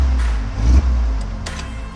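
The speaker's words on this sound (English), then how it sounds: "We got it running and it idles, which is awesome." A 1979 Jeep CJ5 runs on a cheap carburetor, idling close by with a steady, rough low rumble and a brief swell partway through.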